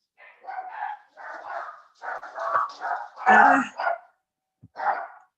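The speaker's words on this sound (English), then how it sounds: "This is the time that the mailman comes, so usually my dogs are good." Dogs barking at home as the mail carrier arrives: several sharp, fairly close barks in uneven bursts, rising to a louder yelping cluster, then a short pause and one last bark.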